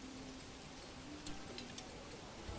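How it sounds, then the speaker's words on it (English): Soft, steady rainfall patters across the ground in the medieval city-building game Manor Lords, a faint even hiss with a few scattered droplet ticks and no voices. "It's raining! It's raining!"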